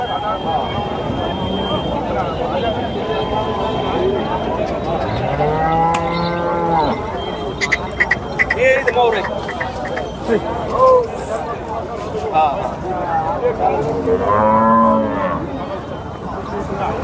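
Cattle bellow at a large bull market in Georai, several loud moos spaced apart over a steady hubbub of crowd noise, with people talking throughout.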